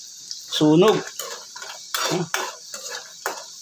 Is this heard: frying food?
yes